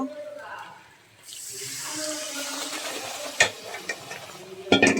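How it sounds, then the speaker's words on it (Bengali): Water is poured into a hot pan of frying goat brain and sizzles in a steady hiss, with a few clinks and bumps of cookware; there is no talking. "এবার আমি একটু পানি দিয়ে দিই সামান্য পানি দিয়ে দিব"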